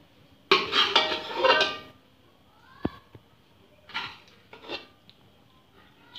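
Chicken pieces going into a metal pot for a spiced biryani, a burst of clattering and scraping at the start followed by a sharp clink and a few softer metallic knocks and rubs.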